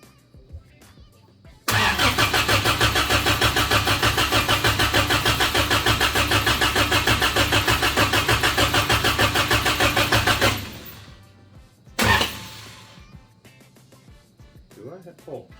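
Engine cranking and catching, a loud rapid rhythmic churning that runs for about nine seconds before cutting out, then a brief second burst, with quieter talk before and after.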